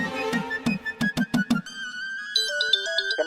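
A phone rings unanswered, a short electronic tune of rapid repeated beeps followed by a higher melodic ringtone phrase, loud and alone.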